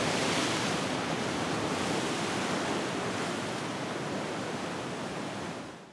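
Continuous roar of ocean surf breaking and washing over rocks on a beach at Sassandra, Ivory Coast, a dense steady wash of water with no voices.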